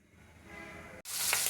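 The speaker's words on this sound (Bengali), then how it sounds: "এখানে হচ্ছে মুরগি ভাজা নিতেছি" Chicken pieces frying in a pan: a soft background hiss gives way to a sudden, loud, steady sizzle after a brief gap, close and continuous.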